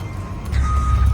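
A garbage truck in a Canadian parking lot sounds a steady high reversing beep over a deep, rumbling engine idle, the tone pausing briefly, then resuming close by.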